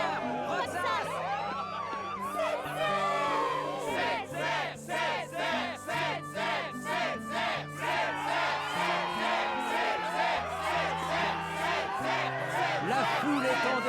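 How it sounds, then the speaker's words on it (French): Stadium crowd roaring and chanting at the Struggle tournament in Kingdom Hearts II, a loud sustained wall of cheering with rhythmic pulses and music underneath. "La foule est en délire."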